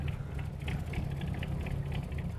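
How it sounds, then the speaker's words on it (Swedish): A diesel engine runs steadily with a low, boat-like throb and rattle, close and continuous, with no talk over it. "Det ska vara en diesel"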